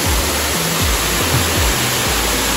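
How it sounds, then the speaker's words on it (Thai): Waterfall deep in an ancient, untouched forest, roaring as a dense, steady broadband rush of falling water, loud and close, with no voices. "ว่าน้ำตกนี้ก็ไม่ค่อยมีใครได้เห็นนะ"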